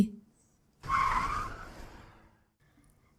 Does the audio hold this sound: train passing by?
no